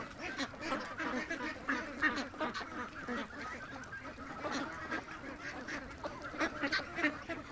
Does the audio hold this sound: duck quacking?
yes